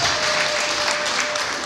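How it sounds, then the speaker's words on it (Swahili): An audience claps at a charity gathering giving aid to widows and orphans, with dense, continuous applause filling the space and no pause. "Alafu tuachapie makofi mengi."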